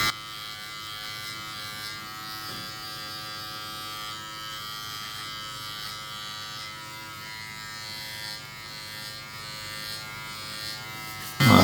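A Manscaped Lawn Mower 4.0 Pro trimmer, used without its comb, trims chest hair with a steady, close electric buzz that holds evenly throughout and ends in a sudden loud knock.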